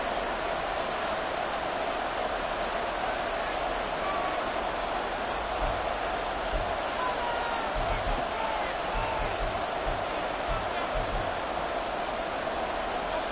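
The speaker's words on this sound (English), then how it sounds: "this crowd trying to force a false start here" A football stadium crowd roars steadily and loudly during a Jets vs Eagles game, a dense continuous wall of noise aimed at forcing a false start, with no single voice standing out.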